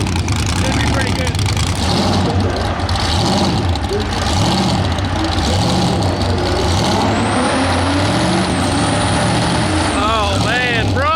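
A nitrous-equipped drag car makes its first real pass of the day at high altitude, a loud, continuous engine roar under voices and crowd noise with a brief high whine near the end.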